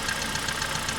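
Running car engine with a small rhythmic knock from the automatic transmission after a torque converter was refitted, a fast steady ticking pulse over a dense mechanical hum heard up close.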